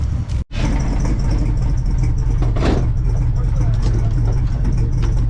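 A 1966 Ford Fairlane with a 390 FE V8 idling while it warms up, a loud, steady low rumble close by with a brief dropout near the start.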